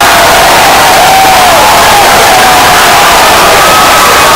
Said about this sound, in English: Though Long Beach State's season ended, the fans still continued to cheer.